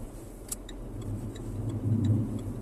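A car drives through London city traffic, giving a steady low engine and road rumble from inside the cabin with faint regular ticking on top, and no voices.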